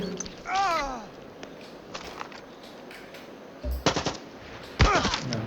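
Gunfire in the video game Far Cry 6: short bursts of automatic fire in three separate volleys, loud and close, with someone talking over parts of it.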